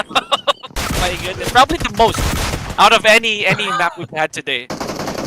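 Rapid bursts of automatic gunfire and single shots from the PUBG Mobile video game, with a pro-series playoff match being played and a commentator talking excitedly over the shooting throughout.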